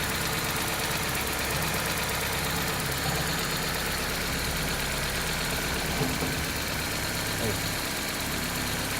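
A 1995 Geo Prizm engine idles steadily with a continuous low rumble and faint knocking texture, heard close for the whole stretch with no voices over it.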